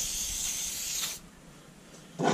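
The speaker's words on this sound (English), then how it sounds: "Dirt down rust spray." Dirt Down rust aerosol spray hisses steadily onto aluminium for about a second, stops, then a brief second burst of spray begins near the end.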